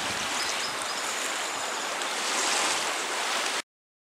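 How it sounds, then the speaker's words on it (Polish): Waterfall on the Nysa Kłodzka river swollen after heavy rain and storms, a steady, loud, broadband rushing roar of water heard alone, close by, cutting off abruptly. "To wodospad na Nysie Kłodzkiej."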